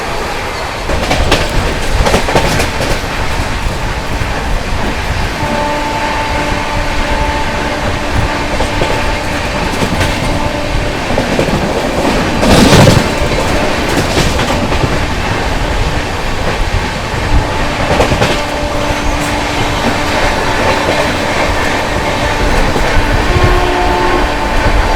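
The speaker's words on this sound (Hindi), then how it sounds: "ये है अपनी सीआर राजधानी एक्सप्रेस।" The 22222 CR Rajdhani Express rushes past at high speed, a loud, steady roar of wheels and rail clatter sustained throughout with a brief horn-like burst midway.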